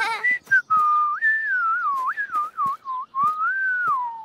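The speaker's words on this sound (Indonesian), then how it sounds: "bisa bersiul tanpa kotak jus" A single person whistles a wavering, sliding tune up close, with short breaths between phrases and no talking.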